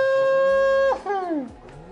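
A car in an Xbox One Forza Horizon desert drift race gives a loud, steady engine whine that suddenly drops and wavers as the car slides, then settles into a lower revving tone, close up with no talk.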